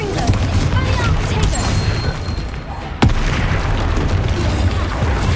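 Confringo explosion spell in Hogwarts Legacy: a booming blast over dense, continuous rumbling battle noise, with a sharp crack about three seconds in, and speech-like game voices mixed through.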